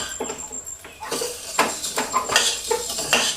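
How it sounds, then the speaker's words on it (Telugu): A spoon stirs vermicelli frying in ghee in a pot on a stove, with steady close scraping and clinking against the metal that grows busier after a quieter start, and no talk. "ఇట్లా పోసి మొత్తం ఫ్రై అయ్యేదాకా ఇట్లా కలుపుతూనే ఉండాలి"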